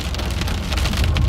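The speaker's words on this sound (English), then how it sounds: "Looks like it's actively hailing." Hail pelting during a plains storm, a dense, loud continuous patter of hailstones striking a vehicle, close and unbroken.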